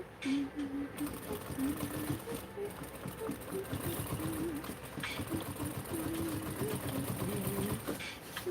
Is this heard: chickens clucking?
no